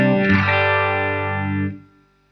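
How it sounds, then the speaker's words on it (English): A sustained distorted guitar chord rings with rich harmonics and delay, then cuts off abruptly at a preset switch, leaving only a faint tail. "when I switch between those two presets, I go from this epic sound and then it cuts everything off"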